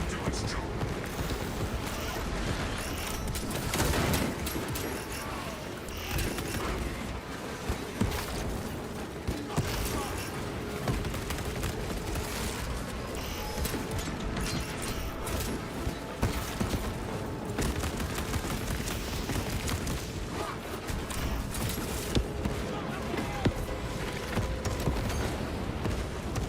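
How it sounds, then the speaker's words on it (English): Servo gun firing in Space Marine 2, a steady stream of mechanical gunfire bursts amid dense combat noise throughout, with game voice lines speaking over it. "Let the servo gun do its job."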